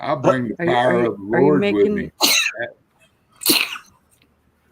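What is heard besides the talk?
sneeze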